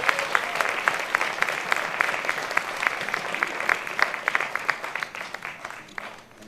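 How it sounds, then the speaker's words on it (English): A small audience applauds to welcome a guest at the Las Vegas Tribute Festival, distinct individual claps audible within a moderate, steady round that thins toward the end. "Big round of applause."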